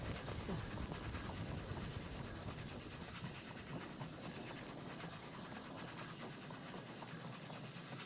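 A train rolls along its track in the video game Oddsparks, a steady dense rumble with a faint rhythmic clatter holding at an even level for the whole stretch, with no voices over it.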